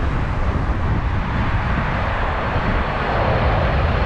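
Alaska Airlines passenger jet passing overhead, a steady loud broadband engine roar that holds constant throughout with no voices.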